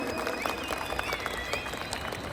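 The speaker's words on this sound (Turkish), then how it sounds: "Güzel bir alkış alabiliriz." A crowd claps and cheers at a distance at a modified car show, a dense patter of hands under a busy, noisy ambience.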